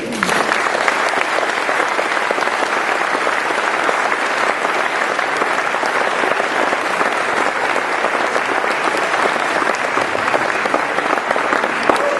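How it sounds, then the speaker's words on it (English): Audience at an award ceremony breaking into sustained, dense applause, steady and loud throughout with no pauses, a large indoor crowd clapping together. "please join me in applauding the work that Louie did"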